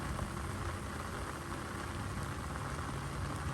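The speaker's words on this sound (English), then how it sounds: "it started raining again" Rain falls on a disc golf course in Waco, Texas, a steady, soft hiss of drops spread evenly throughout with no voices.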